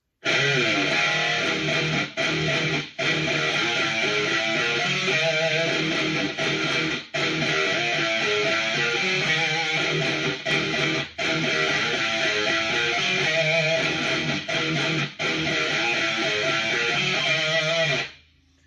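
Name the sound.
electric guitar riff with slides, vibrato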